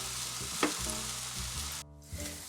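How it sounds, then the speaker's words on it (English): Cubed potatoes and half-caramelized onions sauté gently in a pan, a soft, close sizzle broken by brief stirring scrapes and a short pause near the end. "I'm going to add the cubed potatoes to the onions and let them gently saute together"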